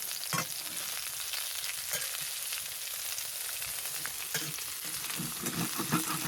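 Steaks and a pan of food sizzle and fry on a stove inside a heated tent during winter camping in Nova Scotia, a quiet, steady crackle with occasional spatters and stirring clatter, no voices.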